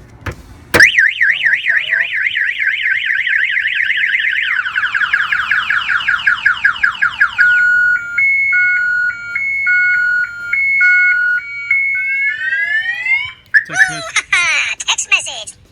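A Polaris Slingshot's alarm blares loud and close, cycling through a rising-falling warble, rapid chirps, then a stepped two-tone pattern before cutting to a fresh burst.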